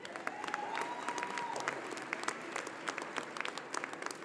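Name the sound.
graduation audience applause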